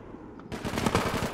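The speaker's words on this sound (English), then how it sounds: "Osma shooting at you, I believe." Rapid automatic gunfire from an online shooter video game, with a multiplayer raid underway, breaks in suddenly after a brief quiet moment and continues as a loud, rattling burst.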